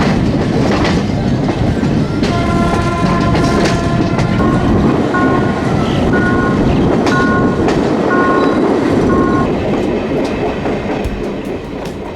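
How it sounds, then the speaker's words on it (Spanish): A passenger train shunts onto the Aedo-Temperley branch line, wheels clattering and rumbling loudly and close, with steady tonal squeals from the rails and the noise tapering off toward the end. "tren solidario realizando las maniobras para ingresar al ramal Aedo-Temperley"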